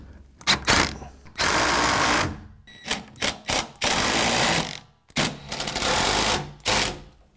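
A drill drives joist hanger screws during construction of a custom mudroom closet and bench seat, with several loud, close bursts of high-pitched motor whine, some long and some in short stuttering pulses, separated by brief pauses.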